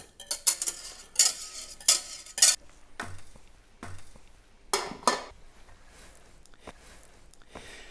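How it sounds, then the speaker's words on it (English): A whisk stirs speculoos paste in a bowl with quick bursts of clinking and scraping, loud and close at first, then quieter and more scattered strokes toward the end. "a little bit mixing with the whisk"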